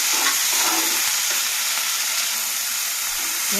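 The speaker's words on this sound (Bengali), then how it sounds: "নুন দিয়ে নাড়া চাড়া নিয়ে ওটা ভালো করে ভেজে নেব" Yardlong beans fry with salt in a hot pan, a loud, continuous sizzle with soft stirring movements throughout.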